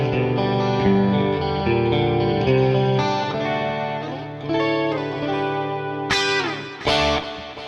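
Clean electric guitar tone through a ToneX chorus effect, with shimmering sustained chords and single notes ringing over several seconds, played alone with no talking.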